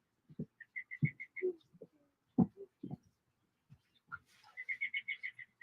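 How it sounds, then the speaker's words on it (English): Bright, repeated bird chirps in short trilled runs, fairly faint and intermittent, between soft knocks and handling noises indoors. "it's so nice to hear birds again"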